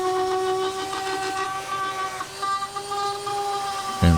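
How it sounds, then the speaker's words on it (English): Orbital sander smoothing bark residue off a turned wooden pot, a sustained whining tone with steady harmonics and a hissing edge, shifting slightly in pitch as it presses on the wood, ending in a thump. "I've done it with a orbital sander before, and I thought it was a good idea this time too"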